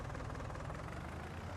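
A tractor engine in Farming Simulator 19 runs steadily at a low, rumbling idle, loud and continuous with a faint knocking texture and no speech.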